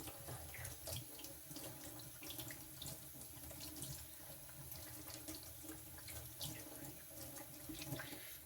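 Warm water runs steadily from a tap at a sink during knife sharpening on a diamond plate, a continuous close hiss with no talk.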